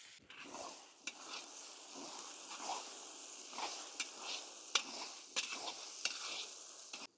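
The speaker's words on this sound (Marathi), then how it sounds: "मसाले व्यवस्थित परतून घेऊ आपण" Green paste and finely chopped tomatoes for a tribal-style Maharashtrian fish masala sizzle softly in a pan while a spoon stirs and scrapes at intervals, close and fairly quiet.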